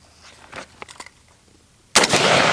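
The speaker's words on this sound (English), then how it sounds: "let off a shot" A single sharp rifle shot bursts out loud and close, after faint clicks of handling, and its blast rings on to the end.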